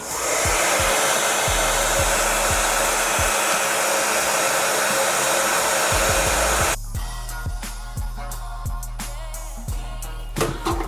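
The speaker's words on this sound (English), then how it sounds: "take a blow dryer and blow dry it down" A blow dryer roars steadily while drying the lace of a closure wig, a loud continuous whir that drops in tone and intensity partway through as the setting or distance changes.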